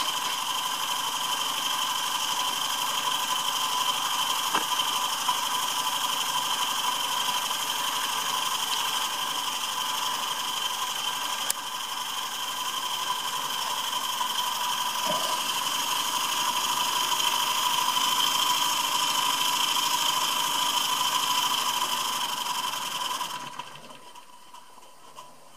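A Perseus model steam engine runs steadily with a constant mechanical whir and hum for over twenty seconds, then slows and quiets near the end.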